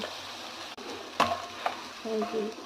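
Paneer frying in a pan of oil gives a soft, steady sizzle with a couple of sharp utensil knocks and a brief scrape, fairly quiet and close.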